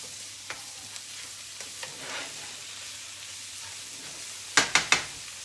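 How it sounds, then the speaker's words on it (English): Sausage and onion frying in a pan, a faint continuous sizzle with a few light utensil taps and a quick burst of three clattering stirs near the end, no voices. "We're just gonna cook this sausage and onion up a little bit."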